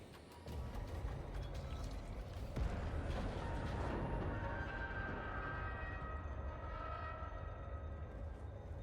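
Steady low rumble and rolling mechanical noise of a train in the Space Marine video game, a continuous loud drone with a brief metallic clank partway through and faint high tonal whine above.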